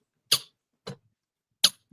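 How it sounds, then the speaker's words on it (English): A vintage Kissy doll gives four short, sharp squeaks in an irregular rhythm, each one brief and close, with silence between them. "She makes a little squeaky sound."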